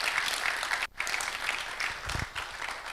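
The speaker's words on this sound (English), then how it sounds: "I think he deserves another round of applause." Dense audience clapping fills a hall at the Ghana Compact media launch, a loud and continuous ovation with only a brief dip partway through.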